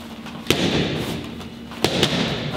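Punches strike kickboxing pads with two sharp, loud smacks spaced more than a second apart, over a dull roomy background.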